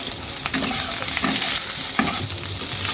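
Cumin, nigella seeds, dried chilli, chopped onion, whole garlic and whole green chillies frying in a pan: a steady loud sizzle with a few soft stirring scrapes, no voices.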